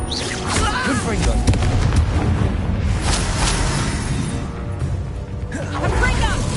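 Confringo blasting spells exploding in Hogwarts Legacy, a dense, loud barrage of booming blasts and crashes with spell effects, continuous throughout with occasional shouted voices underneath.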